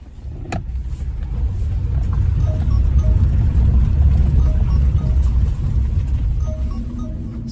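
Renault Zoe electric car rolling along with a steady low road rumble and faint whine, with a short brake squeak near the start.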